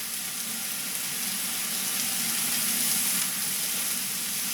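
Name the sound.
mushrooms being stirred and frying in a pan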